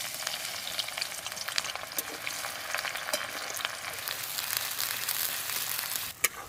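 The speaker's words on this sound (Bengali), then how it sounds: "পেঁয়াজগুলো ভেজে নেব" Onions frying in hot white oil in a karahi, a steady close sizzle with faint crackle and a few sharp pops, heard on its own.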